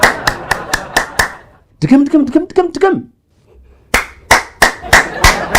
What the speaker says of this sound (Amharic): አጨብጭብ።